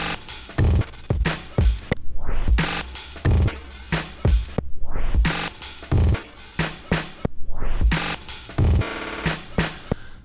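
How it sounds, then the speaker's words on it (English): A beat processed by the Glitch 2 effect plugin: chopped and stuttering with abrupt cuts, falling pitch sweeps and rapid repeated stabs, loud and busy throughout. "this is what Glitch can do with your beat"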